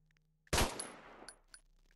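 A single loud pixel-art video game gunshot from Zombie Apocalypse: Pixel Combat cracks sharply and rings out, followed by a couple of small electronic blips as the tail fades.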